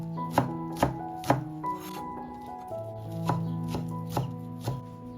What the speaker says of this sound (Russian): Мелко нарезаю зелень